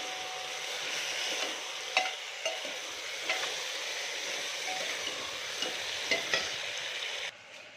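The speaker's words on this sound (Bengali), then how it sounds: "এবার নাড়াচাড়া করে" Sauce being stirred into food frying in a pan makes a constant close sizzle, punctuated by repeated spoon scrapes and clinks at an irregular pace; the sound drops away abruptly near the end.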